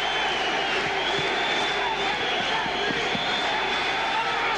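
A French crowd at a boxing match between Stevie Johnston and Jean Baptiste Mendy roars steadily in a large arena, a continuous wash of cheering and noise heard at a distance under commentary.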